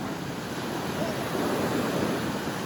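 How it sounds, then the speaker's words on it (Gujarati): Sea waves roll in and wash back against the shore on a rainy, windy fishing outing, a constant loud broadband surf wash with gusts of wind noise. "આમ જોવો કેવડા મોજા આવે ને જાય"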